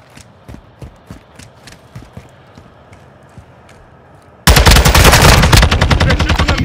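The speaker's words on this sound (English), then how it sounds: "They're shooting at me, pushing it." Rapid automatic gunfire in Modern Warfare II Control mode, a string of fairly distant bursts followed by a sudden loud, dense stretch of near continuous firing.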